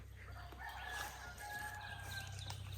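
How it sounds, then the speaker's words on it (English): A rooster crows once in a long drawn-out call near a forest, distant and faint over a steady hiss of outdoor ambience. "Oh, that rooster too."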